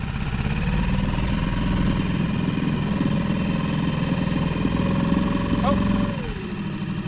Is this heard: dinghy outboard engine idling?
yes